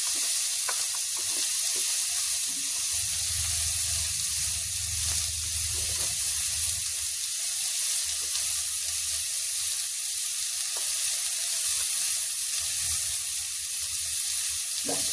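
Spices and turmeric tipped into pumpkin curry in a hot pan, giving a soft, continuous sizzle and frying hiss with faint stirring scrapes, fairly quiet.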